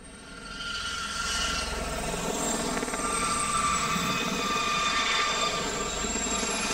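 A military Gazelle helicopter of a special forces helicopter regiment, its steady rotor drone and turbine whine loud and continuous throughout, with no talking.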